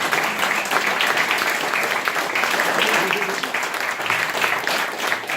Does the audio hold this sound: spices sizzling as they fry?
no